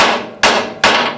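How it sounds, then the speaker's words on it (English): Three sharp, loud hammer blows struck at an even pace in a knife-making shop, each ringing briefly and fading before the next; close and alone, with no talking. "This is a real hammer."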